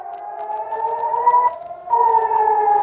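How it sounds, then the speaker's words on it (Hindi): A wailing air raid siren in Tel Aviv rises and holds a steady tone, then dips briefly and swells again, loud and continuous with a faint second siren layered underneath. "उसके बाद अलग अलग जगह सायरन बज रहे थे"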